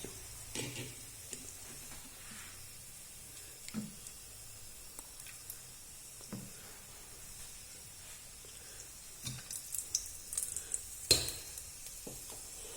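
Cloves and cardamom sizzling in hot ghee for ghee rice, a soft low crackle with occasional louder pops and stirring clinks, faint and intermittent.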